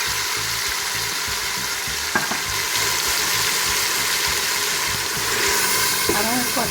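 Chicken with spices and yogurt frying in a pan while being mixed: a steady, moderately loud sizzle with a few scraping strokes, over a low hum.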